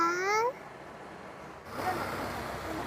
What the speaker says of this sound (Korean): 엄청 귀여운 치즈냥이가 자고 있어요.